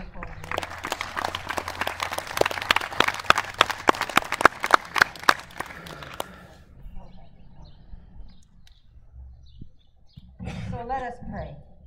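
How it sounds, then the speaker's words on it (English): An outdoor crowd at a park worship service gives a round of applause for a group, with loud, close clapping for about six seconds. Faint birdsong follows, then a voice speaks. "we should just give another round of applause to this wonderful group"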